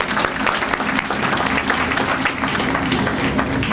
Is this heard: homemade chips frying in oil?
no